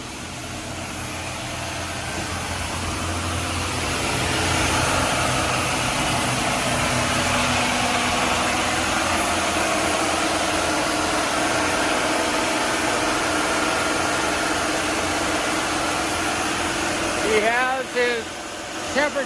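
A Bayliner 4788 motor yacht's engine runs steadily at 18 knots during a sea test, a loud continuous drone with water rush that holds for most of the stretch, ending in a brief burst of voices.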